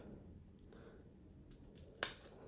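Scissors snip paper for a unicorn paper flower craft, a few faint cuts and then one sharper, louder snip in a quiet room.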